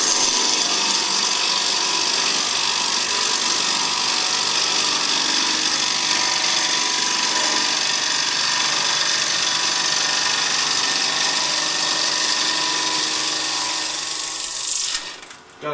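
A carbide-insert Easy Wood Tools rougher makes a left-hand cut on a spinning workpiece on a wood lathe, a loud continuous abrasive roar and shaving hiss that holds steady and then stops abruptly near the end.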